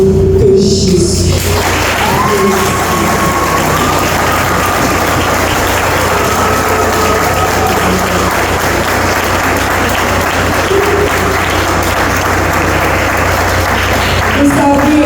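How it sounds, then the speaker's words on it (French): Loud, continuous applause from a standing audience at a church service, heavy and close, running unbroken for many seconds, with faint voices and a tonal sound blending in beneath the clapping. "Je voudrais demander à ceux qui le connaissent comme moi de se lever afin de m'aider à l'applaudir chaudement."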